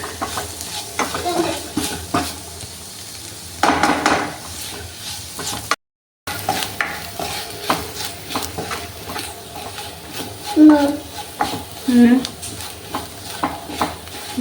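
Coriander powder roasting and being stirred in a pan, heard as a steady dry sizzle with scraping spoon strokes against the metal, a few louder clinks near the end, no talking.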